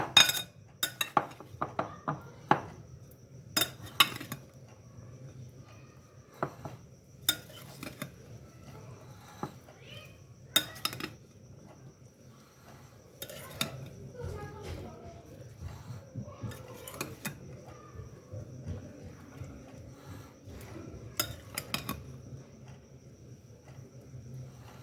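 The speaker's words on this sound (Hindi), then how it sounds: "ये डाल के हमने करना है इसे अच्छे से मिक्स।" Spoon clinking against a bowl while ingredients for diet chaat are mixed, scattered sharp taps and scrapes with quiet gaps in between, close and fairly soft.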